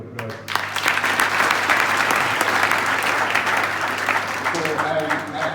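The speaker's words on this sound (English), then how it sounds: "So can we give this circuit a round of applause?" An audience at an agricultural event gives a sustained round of applause for a top-performing circuit, dense clapping swelling in quickly after a brief lull and holding steady, with a low background hum beneath.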